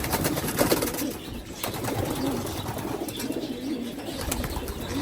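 Pigeons, breeding birds, cooing as they scramble for garlic, with soft throaty coos over a busy background of shuffling and brief wing flutters, close by and without talk.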